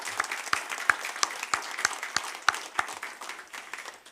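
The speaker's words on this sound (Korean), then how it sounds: "우리 하나님께 박수 한번 올려드리겠습니다" A congregation claps in a church during a Sunday morning thanksgiving service marking the church's 50th anniversary, a brisk run of sharp, fairly close hand claps that stay moderately loud for about four seconds with no talking.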